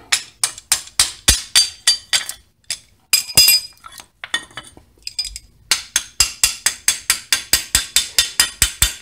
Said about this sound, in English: You got to beat your pads in or out of the caliper bracket.